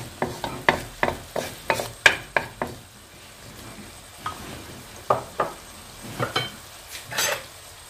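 Minced meat in a frying pan, with a series of sharp scraping and stirring strokes in a quick rhythm over a soft sizzle, then slower, sparser strokes.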